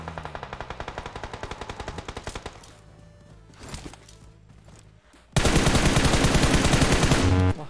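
Rapid bursts of automatic gunfire rattle in quick rhythmic volleys, pause briefly, then erupt into a loud, dense stretch of continuous shooting.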